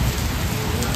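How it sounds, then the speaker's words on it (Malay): Heavy rain pours down in a dense, steady hiss of close, continuous noise for a moment. "Nak balik dah hujan lebat."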